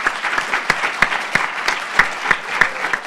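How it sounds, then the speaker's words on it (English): Steady audience applause with scattered sharper claps standing out, a full room clapping continuously without voices. "I would like to give a warm round of applause to our panelists"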